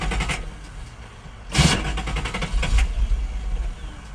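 A Datsun car engine cranks with a sharp burst, then catches and runs unevenly with rough revving pulses, heard up close after fresh spark plugs.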